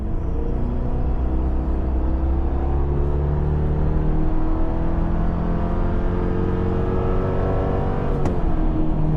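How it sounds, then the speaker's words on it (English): A 2026 Chevy Silverado Custom Trail Boss pickup accelerates at wide open throttle from about 40 mph, its engine note a loud, steady rising drone with road rumble heard from inside the cab, alone without talk. "Let's go ahead and check out some of the acceleration. We're going 40 miles an hour,"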